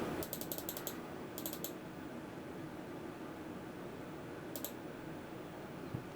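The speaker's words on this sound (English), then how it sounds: "give it some more flap" A Boeing 737 flap lever being moved in the PMDG simulator: quiet rapid ratcheting clicks in a short cluster, another cluster a second later, then a final brief click burst, over a steady faint cockpit hiss.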